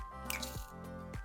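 Cecred volumizing mousse pushed from a nozzle into a hand, heard as a brief, soft, wet squish and sputter up close.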